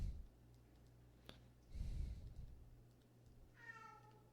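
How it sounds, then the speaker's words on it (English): A faint meow from a cat rises briefly near the end, following a soft rustle and a quiet click in a calm room. "Sorry if you hear my cat."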